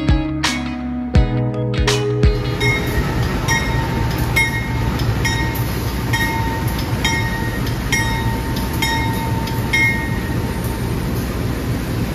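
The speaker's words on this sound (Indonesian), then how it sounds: "Kereta api Jakatingkir dari Jakarta pakai lokomotif CC2039501." Jakatingkir passenger train hauled by a CC 203 diesel locomotive, a loud opening blast and clank, then a steady roar of rolling carriages with rhythmic wheel clicks over rail joints and a constant high squeal.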